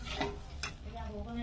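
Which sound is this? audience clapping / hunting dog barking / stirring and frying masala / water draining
stirring and frying masala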